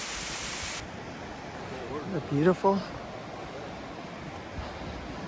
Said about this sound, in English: Look at those beautiful waterfalls.